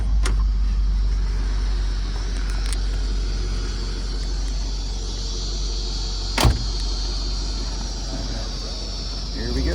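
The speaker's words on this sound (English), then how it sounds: "stand right here and I'll just drive by where you can see the car coming" A 1960 Cadillac Eldorado Biarritz with a 390 Tripower V8 rolls past outdoors, a steady low engine rumble and road noise holding throughout, with a brief sharp knock midway.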